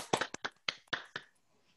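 A small group claps for newly promoted Atomy members at a business meeting: roughly eight sharp, uneven claps over under two seconds, close and fairly loud, then fading out.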